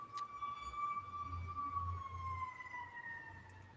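Siren tones wail and slowly fall in pitch as emergency vehicles pass at a moderate distance over steady low traffic rumble.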